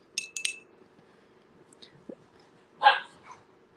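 Dogs in a home give a few short, quiet barks and yips, with a louder bark near the end of the stretch, over a near-silent room.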